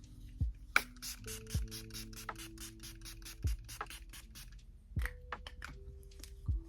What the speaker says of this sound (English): I'm gonna put some spray on and spray all this stuff in.